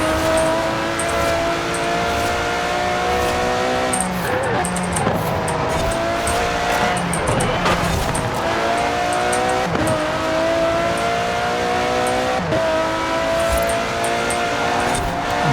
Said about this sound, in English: Beautiful engine noise.